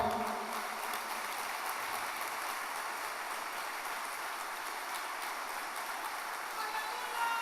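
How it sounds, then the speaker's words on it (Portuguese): A Pentecostal church congregation applauds the Lord during a worship service. The clapping is a continuous, even wash of many hands, moderately distant and fairly soft, holding steady throughout without voices on top. "Aleluia, você pode aplaudir ao Senhor?"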